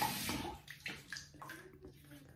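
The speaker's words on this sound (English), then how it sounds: "I'm gonna wet the face here." Water splashes and sloshes from cupped hands onto the face before a shave, with a continuous running stream and several brief wet slaps over a couple of seconds, close by and moderately quiet.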